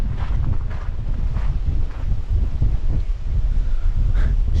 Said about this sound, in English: Extremely windy up here today, guys.